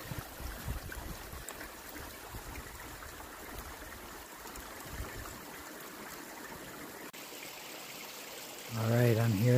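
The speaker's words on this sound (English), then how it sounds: "the spring is right here flowing right from the mountains itself" A mountain spring off the Red Hill Trail in the Catskills trickles and gurgles steadily nearby, a soft continuous water flow, before a voice starts speaking over it near the end.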